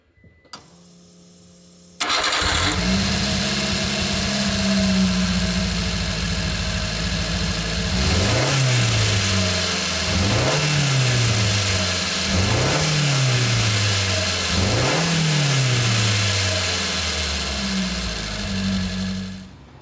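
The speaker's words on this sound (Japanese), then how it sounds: "アクセルをぐっと踏み込んだ時にボソボソボソとする感じですね" A Subaru Sambar engine with a loss of power starts and idles, then revs up four times in rising surges that sound rough and uneven, sputtering under acceleration, before settling back to idle.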